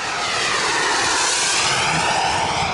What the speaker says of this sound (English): Got another jet up there.